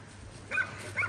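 Outdoor dog giving two short high-pitched squeals or yips, loud and close, over steady background hum with no talking, during mild early-January weather.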